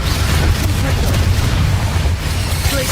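A Bombarda spell explosion in Hogwarts Legacy on PS5, heavy booming blasts and a low rumble filling the whole moment, loud and dense with no pause.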